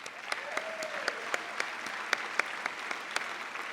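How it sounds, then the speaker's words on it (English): Applause at a Columbus Celebration gala for Italian Americans, sparse, fairly quiet clapping with a few sharper individual claps standing out in an irregular rhythm. "we ought to give them a big round of applause"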